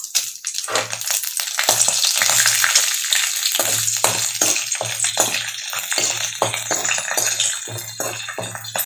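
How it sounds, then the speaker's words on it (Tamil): Dried red chillies and chana dal fry in hot oil in a pan, a steady close crackling sizzle with rhythmic stirring scrapes throughout, no speech. "வரமிளகா நல்லா பொரிஞ்சிருச்சு."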